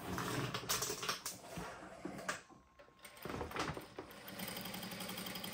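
A JACK A2 direct-drive lockstitch industrial sewing machine with automatic thread cutting runs in quiet, rapid stitching bursts that start and stop, with a short lull midway.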